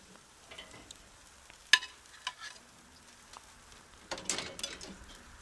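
Ribeye steaks sizzle quietly on a hot cooking surface, a low steady fry broken by a few sharp scrapes and clatters from turning and lifting the meat.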